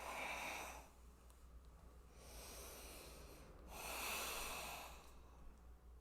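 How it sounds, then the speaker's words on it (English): Slow deep yoga breathing, two long airy inhale-exhale cycles, close and soft, with no talking. "Taking a few rounds of breath here."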